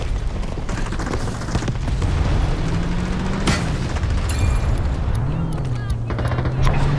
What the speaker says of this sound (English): I just hit a vehicle with my grenade randomly when I just randomly threw it.